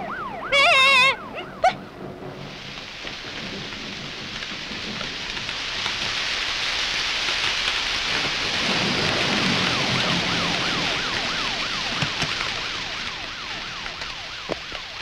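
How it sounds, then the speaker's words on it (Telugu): Heavy rain pours steadily as a loud, continuous hiss. A brief swooping tonal sound comes near the start, and no one talks. "వర్షం వచ్చింది"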